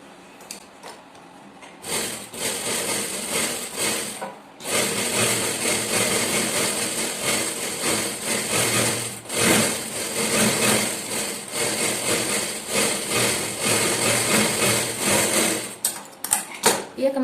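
A sewing machine stitches the side joint of a plain blouse in long, steady whirring runs with brief pauses between them, close and loud, with faint handling noises in the gaps.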